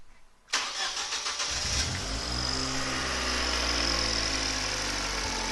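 An Exo Rocket 2 kit car with a 270 horsepower turbo engine and twin exhausts cranks and fires up, then settles into a loud, steady, smooth idle with a deep low rumble.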